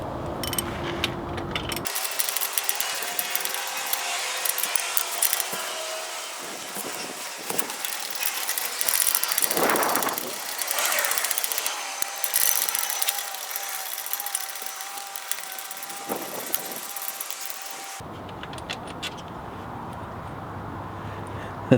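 A hand ratchet clicks rapidly and steadily while loosening bolts on a manual transmission being dropped at home, with brief pauses and a few softer mechanical knocks, heard close up.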